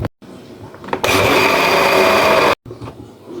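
An electric blender grinds a kilogram of garlic for seasoning, a loud high whirring that runs for about a second and a half between brief stops, with handling noise and a low voice around it.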